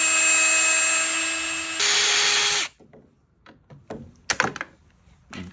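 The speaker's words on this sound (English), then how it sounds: "Just busting those rivets off." A power tool whines steadily for a few seconds while busting rivets off a go-kart pull starter, then stops, followed by scattered clinks, taps and knocks of parts being handled.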